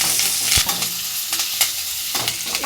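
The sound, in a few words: tempering of dried red chilies, green chilies, curry leaves frying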